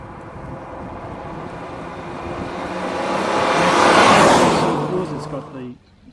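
A 1990 Alfa Romeo 75 QV Potenziata 3.0L V6 revving out, its exhaust note rising in a loud, smooth swell that peaks and then drops away abruptly.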